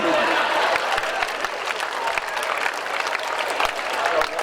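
Audience applause at a comedy show in a large hall, dense continuous clapping from a big crowd at steady loudness throughout, with a voice faintly mixed in.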